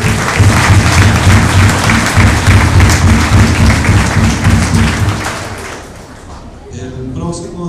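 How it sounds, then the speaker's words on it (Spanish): A congregation at a 2013 patronal mass in La Cruz breaks into loud, dense applause that holds steady for several seconds, then thins out and fades near the end. "regalémosles un fuerte aplauso y agradecimiento"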